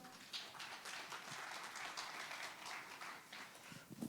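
Applause from an audience at a Korean business CEO lecture as a speaker takes the stage: a faint, distant patter of many hands clapping that stays fairly even throughout.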